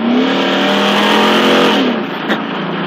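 A GT sports car accelerates hard, its loud engine note rising steadily and then dropping back at a gear change, with a brief sharp transient near the end.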